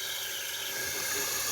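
Water runs in a steady, even stream out of a water cooler being cleaned and flushed, a soft continuous splashing with no other sounds.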